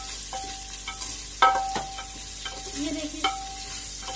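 Onions fry in a pan for paneer pulao, a soft sizzle with spatula scrapes and a few distinct knocks and stirring strokes; a person speaks briefly.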